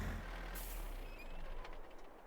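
Truck pulling in on a farm, with a low engine rumble and a sharp hiss of air brakes releasing partway through, followed by faint squeaks and settling sounds.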